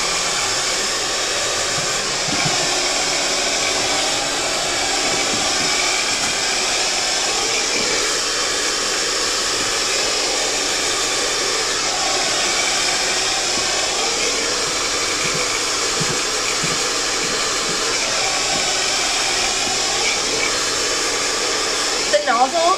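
A handheld hair dryer blows air steadily through its nozzle at a hair styling academy, a loud continuous whooshing roar that holds level for the whole stretch with no talk.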